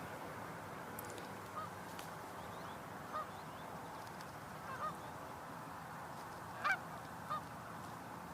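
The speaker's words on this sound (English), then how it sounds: "I think that might be a cackling goose." A cackling goose gives several faint, brief honks from a distance over a soft, steady outdoor background hiss.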